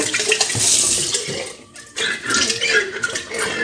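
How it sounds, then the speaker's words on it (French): Hot tap water splashes into and over a kefir jar being rinsed, a close, loud running-water rush with a brief dip in the middle before the flow resumes. "je vais rincer juste à l'eau chaude"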